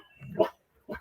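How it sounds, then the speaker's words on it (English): A pet dog gives two short barks at a neighbor passing by, one a bit drawn out and the second a quick follow-up, close and moderately loud. "Sandy, you don't have to bark at the neighbor."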